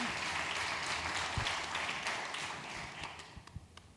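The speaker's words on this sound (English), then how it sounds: "there's a double applause, that you had one applause before" Audience applause after a theatre performance, dense steady clapping from a full house that thins toward the end into scattered individual claps.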